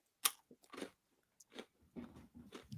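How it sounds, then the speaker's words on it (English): Pretzel being chewed right at the microphone, crisp bites and crunches in uneven bursts with short pauses, quiet overall. "You got to chew louder into it."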